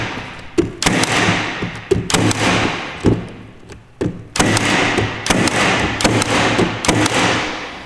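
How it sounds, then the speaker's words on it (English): A cordless nail gun fires repeatedly, giving loud, close, sharp thuds in irregular bursts, some spaced singly and others in quick succession, with no talking. "I want to see if my nail gun still works."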